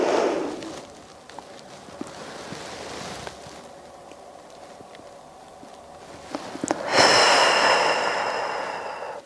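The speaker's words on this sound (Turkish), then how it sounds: "Derin bir nefes alıyorum." Slow, deep breathing during a seated back-pain and office stretching exercise: a long audible breath, a quieter pause, then a louder rushing exhale close to the mic.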